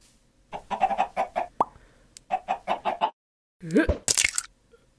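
A chicken clucks in a realistic Minecraft-style animation, two rapid runs of short, evenly spaced clucks, followed by a rising squawk and a sharp plop-like crunch, close and clear.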